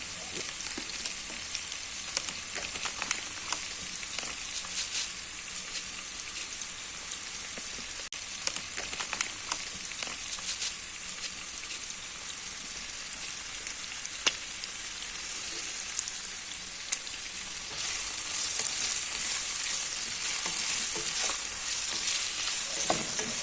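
Buckwheat with meat and garlic sizzling and being stirred in a pan, a steady crackling fry with occasional scrapes and clicks of the utensil, rising slightly louder toward the end.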